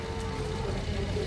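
Cattle at a busy livestock market in Urdaneta City give a low, drawn-out moo amid steady crowd and yard noise, heard at middle distance.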